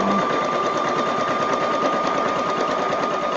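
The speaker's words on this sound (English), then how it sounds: "Just enjoy the sound of the sewing machine." A sewing machine stitches along either side of a stamped word on a paper ephemera project, set to a stitch width of 1.5. It makes a steady, close, continuous whirring chatter for the whole stretch, with no talking.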